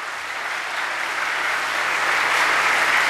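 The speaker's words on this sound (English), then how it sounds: "let us all put our hands together and cheer them for all that they have done." A school audience at a farewell for Class XII students applauds loudly, the dense clapping swelling and growing louder across three seconds, with no talk over it.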